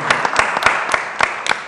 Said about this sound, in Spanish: Y un aplauso para ti.